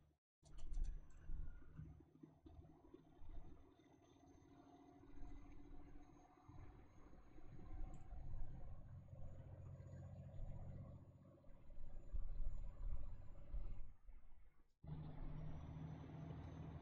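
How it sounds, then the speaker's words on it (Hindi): A MAN TGX truck engine in Euro Truck Simulator 2 runs steadily, its low rumble rising and falling, with a brief cutoff and a hiss near the end before the engine continues. "क्या आवाज कर रही है ये ट्रक।"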